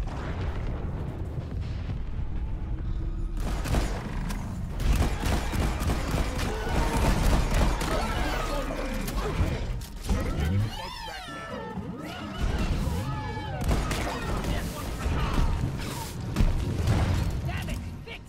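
Deep booming explosions echo through a video-game cave as a meteor strikes near the roof, rumbling and crashing under a continuous dense din with voices talking throughout.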